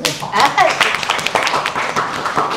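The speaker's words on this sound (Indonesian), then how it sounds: "Kita tepuk tangan dulu." Clapping from a studio audience on a live talk show, quick scattered handclaps under lively talk and voices.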